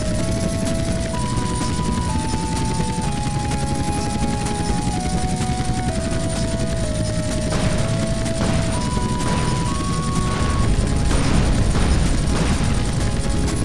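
A helicopter flies during pilot training in GTA San Andreas, its dense, loud rotor and engine drone running continuously, with a sustained tone shifting pitch in steps and crashing, gunfire-like bursts cutting through in the second half, no talk.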